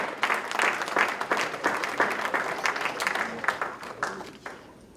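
A church congregation applauds in a steady, dense run of hand claps that carries throughout at moderate loudness and tapers off near the end.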